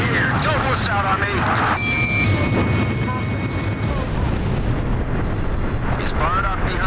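Cannon fire in the Ace Combat 5 video game: dense, continuous booming and crackling bursts that fill the whole passage, with radio chatter running over them.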